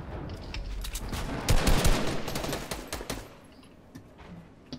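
Rapid bursts of automatic gunfire crackle through a Fortnite match, dense and loud at first, then thinning into scattered shots that fade by the end.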